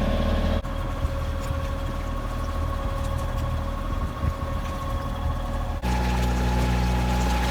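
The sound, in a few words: boat motoring through the atoll channel at 7 knots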